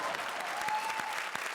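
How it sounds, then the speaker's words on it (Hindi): Enthusiastic audience applause at a Hindi comedy show, a dense burst of many hands clapping with a few sharper individual claps standing out, steady and fairly close. "जोरदार तालियां।"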